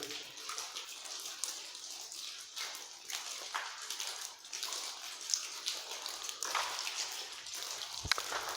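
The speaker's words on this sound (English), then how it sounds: "You may hear the water dripping." Water drips and trickles continuously inside Longhorn Caverns, a cave in Texas, with faint splashing, a steady soft patter that carries on with no voices.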